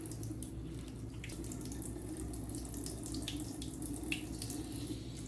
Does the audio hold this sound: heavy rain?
no